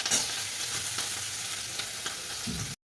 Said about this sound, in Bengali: সব ভেজিটেবলসগুলো ভাজবো যাতে ভালো করে টেস্টটা আসে